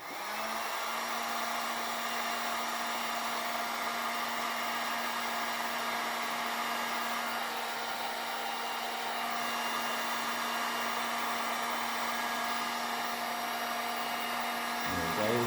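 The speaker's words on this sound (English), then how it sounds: "So the heat gun, set it to low." A heat gun on its low setting blows steadily while shrinking heat shrink tubing, a continuous close-up whoosh with a faint hum running for about fifteen seconds without any talking.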